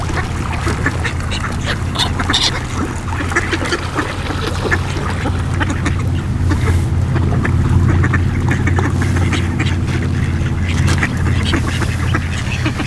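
Ducks being fed in Sanders Park, Bromsgrove, quack in a busy flock, with calls coming repeatedly over steady outdoor background noise and a hint of water.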